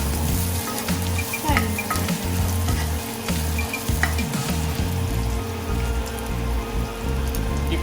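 Dried red chillies and chopped garlic frying in hot oil in a pan, giving a dense, continuous crackling sizzle like steady rain, loud and close with occasional faint pops.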